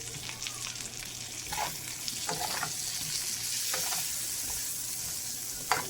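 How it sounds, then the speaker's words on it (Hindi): Lamb steak fries in a pan with a steady close sizzle, broken by occasional stirring scrapes and light pops. "थोड़ा सा इसको फ्राई करेंगे"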